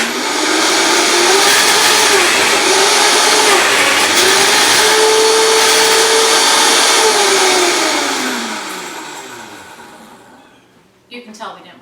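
A Vitamix blender runs at high speed with a loud, steady whirring motor whose pitch wavers slightly as the contents churn, then winds down and stops, followed by a few faint clatters.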